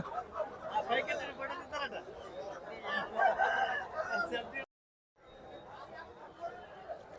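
Roosters crow and cluck amid a crowd of chattering voices at the Gokavaram rooster market, with the busy mix cutting out briefly before the murmur resumes more faintly.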